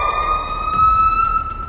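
Slowed-down call of a papiha (common hawk-cuckoo), stretched into a loud, steady, siren-like wail that holds a high pitched tone over a low rumble throughout.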